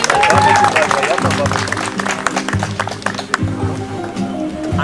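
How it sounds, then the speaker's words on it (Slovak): A crowd at a veterans' gathering in Špania dolina claps in dense, steady applause, close and loud, with music and voices running underneath. "Všetci si zatleskajme!"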